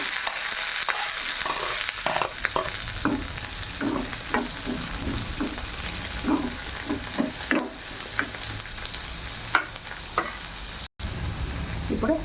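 Chopped onion and curry leaves fry in a pan for a kasarkai curry, making a soft, continuous sizzle broken by repeated light scraping and stirring knocks, all close and moderately quiet.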